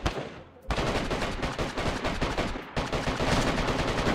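Gunfire rings out in the video game DayZ during a deathmatch: a loud, rapid burst of repeated shots, a brief pause, then another sustained volley close by.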